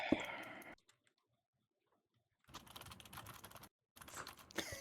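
Rapid clicking keystrokes on a computer keyboard come in two busy bursts separated by a quiet pause, close and fairly soft, with no talking over them.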